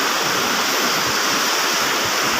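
Strong river current rushing loudly and steadily, a dense unbroken roar of churning water close by with no voices audible.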